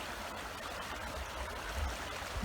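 A river flows beside a hiking trail, its steady rushing and babbling water filling the whole span close by, with no voices over it.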